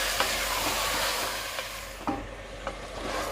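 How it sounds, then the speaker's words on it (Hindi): Mutton pieces coated in garlic-ginger paste sizzle steadily in a pan on the stove, with occasional scraping clicks from the stirring spoon, close and fairly quiet. "अब हम गोश्त की अच्छे से बुनाई करेंगे तब तक जब तक गोश्त का अच्छे से कलर चेंज ना हो जाए"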